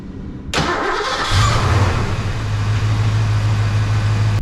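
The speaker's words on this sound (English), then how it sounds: "start the car up and do a test run." A 1990 Ford Mustang engine cranks and catches after half a second, then settles into a steady, loud idle close by.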